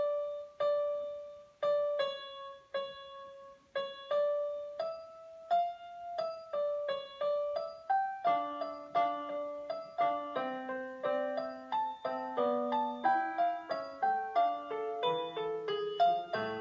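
Vivaldi's La Follia melody reworked in the style of Bach on a keyboard instrument, first as a single-line theme of plucked or struck notes, then thickening into busy contrapuntal lines with a lower voice, played alone at a steady tempo.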